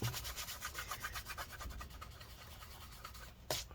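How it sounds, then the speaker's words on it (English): A surface on an MSI GS63VR Stealth Pro laptop being rubbed to blend in color, giving a soft, repeated scratchy rubbing in quick strokes, close and quiet, ending with a brief louder scuff. "you can kind of just rub that to kind of blend the color in a little bit"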